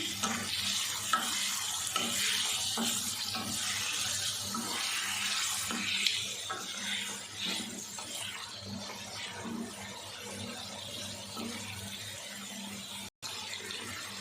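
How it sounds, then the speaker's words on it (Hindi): Chicken and onions sizzle and crackle steadily in a pan while stirred, with scraping and a watery hiss throughout, fairly close. "प्याज के साथ हम चिकन को भी अच्छे से फ्राई कर लेते हैं।"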